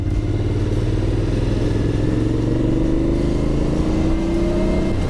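An Aprilia Shiver 900 naked sport motorcycle engine runs steadily and loud throughout a test ride, its drone rising slightly in pitch as it pulls, with no voices over it.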